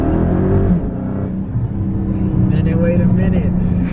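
A 2020 Dodge Charger Widebody Hellcat Daytona being driven, its engine a steady low rumble close by, with people talking over it throughout.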